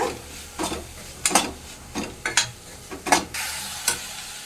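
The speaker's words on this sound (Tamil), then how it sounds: "அரைச்சி வச்சுருக்க தேங்காயை சேர்க்குறோம் அரைப்பை கிண்டி விட்டு" A spoon scrapes and stirs ground coconut paste into cooked green banana and cluster beans in a pan for a coconut stir-fry, making a run of soft irregular scraping strokes close by with faint sizzling underneath.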